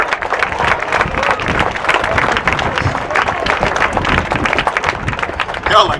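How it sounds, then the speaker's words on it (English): A rally crowd claps and cheers loudly and continuously, with voices shouting within the noise throughout. "You should be clapping hard."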